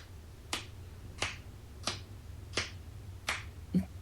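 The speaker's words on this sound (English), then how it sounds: "The clapping was part of the music track," Five sharp claps spaced evenly about two-thirds of a second apart in a music track over a low steady hum, with a softer final hit.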